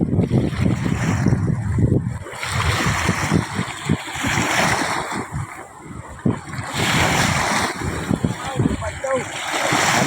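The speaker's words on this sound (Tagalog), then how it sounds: "Lakas ang agos." Strong floodwater runs in a fast current after heavy monsoon rains, a loud continuous rushing and churning close by, buffeted by gusts of wind on the microphone, with voices talking now and then.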